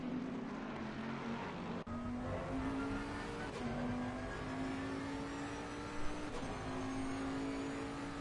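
GT3 race cars lapping the Nürburgring in a racing video game, including a front-engined V10 Bentley, give a steady, droning engine note that rises and falls slightly in pitch, loud and continuous with no talking.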